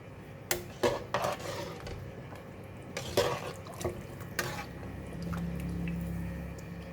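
Spoon or ladle clinks and scrapes in a pot of soup with red dates and goji berries, a few sharp knocks in quick succession over a low kitchen background, then a soft bubbling hum.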